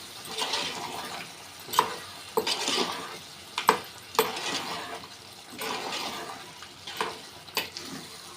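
A spoon stirs thick chicken curry in a pan, making soft wet scraping and sloshing with sharp clinks against the metal at irregular intervals, close up and steady.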